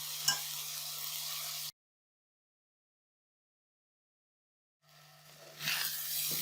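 Ground chicken keema sizzles and fries in a pan, a steady hiss with a few stirring scrapes, cut by a silent gap before the sizzling returns and swells.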